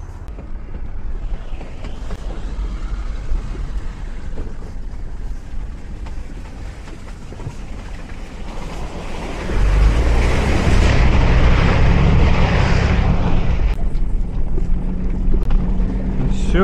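A Niva drives off-road at night with a steady engine rumble and wind buffeting the microphone. The drone grows noticeably louder and rougher about halfway through, then continues at that level.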